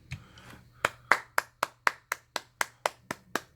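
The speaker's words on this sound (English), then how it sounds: "give yourself a round of applause" A single person clapping, about a dozen crisp, evenly spaced claps in a steady rhythm, close and clear with no voices.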